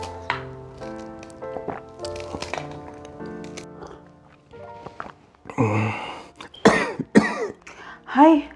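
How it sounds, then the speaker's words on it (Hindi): Man coughing several times in harsh, throaty bursts after a stretch of quiet music, close and fairly loud, with some throat clearing among the coughs. "हाय, अब खांस क्यों रहे हो जी?"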